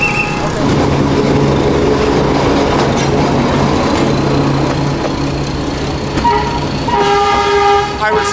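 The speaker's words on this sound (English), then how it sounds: "What, you mean the train that's just turned its light on?" A train rumbles loudly past on railway tracks in Vietnam, a close, continuous roar with rattling wheel clatter, closing with a sustained horn blast; voices can be heard over the noise.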